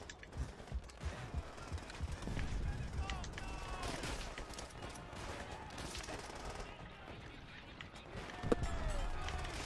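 Dense, continuous gunfire and explosions from the video game Call of Duty: World at War, with rapid bursts layered over constant battle noise and a louder blast near the end, as a player talks over it.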